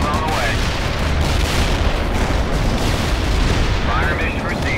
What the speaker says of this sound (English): Shells on the way.